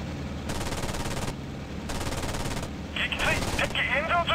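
Bursts of rapid aircraft cannon fire from P-36 Hawk fighters in IL-2 Sturmovik come in several long strings, a rattling roar with short pauses between; someone talks over the last burst.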